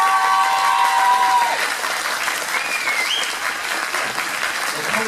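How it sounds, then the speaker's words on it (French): Audience applause fills a cosplay parade at the DijonSaiten convention, a dense steady clatter of many hands clapping throughout, loud and close, with faint crowd noise and brief whistle-like tones early on. "on peut l'applaudir"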